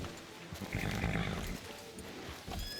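A horse in the Red Dead Redemption 2 video game whinnies near a saloon, a loud drawn-out neigh over rustling outdoor ambience and faint hoof sounds.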